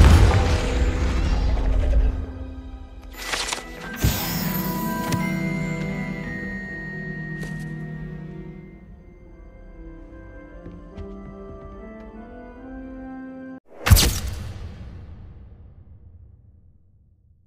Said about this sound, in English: Confringo!